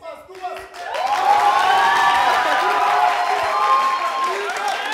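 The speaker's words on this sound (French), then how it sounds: "Si c'est Jamila, on applaudit" An audience on a variety TV show applauds to vote for a contestant, broad clapping and cheering rising after a brief spoken lead-in and sustained near and loud, with a host's voice over it.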